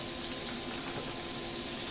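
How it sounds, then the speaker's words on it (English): Steady, dense sizzling and crackling of mince frying in a hot pan for spaghetti bolognese, continuous and fairly quiet, with no voices. "instantly it'll sizzle very loud and go back"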